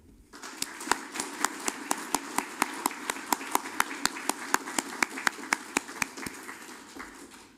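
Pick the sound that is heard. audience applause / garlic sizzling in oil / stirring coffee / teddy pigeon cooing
audience applause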